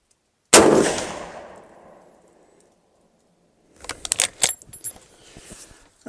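A single loud, close gunshot from a 30-30 lever-action rifle rings out and decays over about two seconds, followed after a pause by metallic clicks and clatter of handling.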